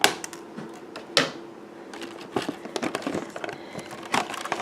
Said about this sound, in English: I am going to have to cut this out.